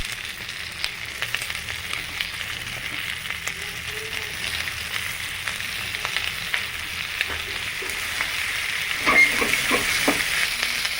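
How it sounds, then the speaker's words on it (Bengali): Chopped onion and capsicum frying in a pan for chilli chicken, a continuous close sizzle that grows slightly louder, with a few stirring clanks near the end and no voices. "এবারে এর মধ্যে কেটে রাখা পেঁয়াজ আর ক্যাপসিকাম দিয়ে দেব দিয়ে ভালো করে ভেজে নেব সবজিটা"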